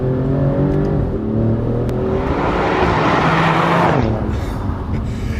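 Alfa Romeo Giulia Quadrifoglio being driven hard, its engine revving up through rising pitch sweeps before easing off, loud and close from start to finish.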